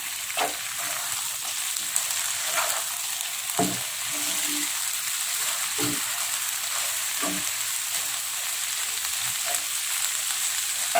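Scrambled egg being stirred and fried in a hot pan for mie tek tek noodles: a steady close sizzle runs throughout, broken every second or so by sharp utensil scrapes and knocks against the pan.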